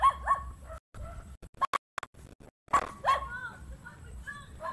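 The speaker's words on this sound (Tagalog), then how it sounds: "tatakot sa aso, ang daming aso." Several dogs bark in short, sharp bursts around a hut, some near and loud, others yelping in quick succession with brief gaps of quiet, a person's voice mixed in.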